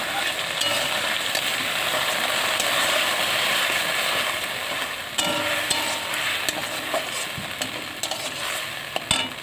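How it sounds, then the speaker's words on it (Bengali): Cumin, chili and ginger pastes fry in oil, giving a continuous close sizzle with occasional stirring scrapes and spoon taps against the pan. "এই মশলা দিয়ে দিলাম, জিরে বাটা, লঙ্কা বাটা, আদা বাটা"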